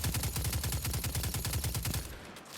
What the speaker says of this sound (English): I can sit here and do this with an auto rifle